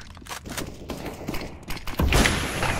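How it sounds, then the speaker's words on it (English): Grenades and flashbangs burst in a tactical shooter game amid gunfire, a series of dull thuds and pops scattered through the clip before a heavier, sustained blast near the end. "I'm throwing a grenade!"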